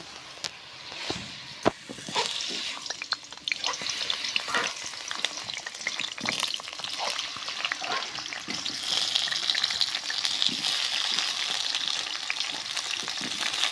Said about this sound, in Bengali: আর একটা আলু, একবার তেলে ভাজে নিব।